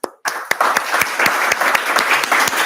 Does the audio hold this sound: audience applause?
yes